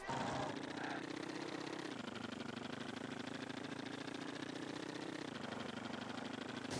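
A steady mid-pitched car engine in Rocket League idles and drones continuously, its tone dipping slightly at a couple of points, with no voices.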